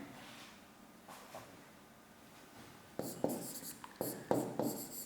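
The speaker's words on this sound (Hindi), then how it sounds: "यहाँ लिख लेते हैं" Writing during a biology lecture on bryophytes: faint scratchy marker or chalk strokes on a board, quiet at first, then a run of short, distinct scraping strokes close by, with no talk.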